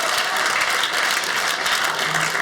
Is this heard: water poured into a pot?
no